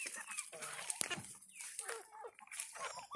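A white naked neck chicken gives a few short clucks nearby, with other farm fowl faintly audible in the background.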